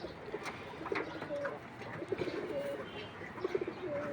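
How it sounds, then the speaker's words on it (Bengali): Female pigeons being let out from their loft cooing and calling in short repeated bursts at close range, with a busy murmur of other birds behind. "এই যে মাদি কবুতরগুলো ছাড়ছি"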